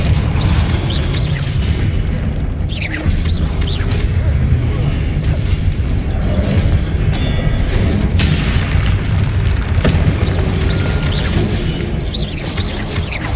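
Depulso spell cast during Hogwarts Legacy combat, a booming magical impact among a constant din of game effects, crashes and bursts that keeps up loudly across the whole stretch.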